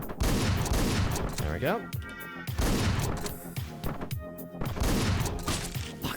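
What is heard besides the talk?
gunfire from an enemy in the video game Hotline Miami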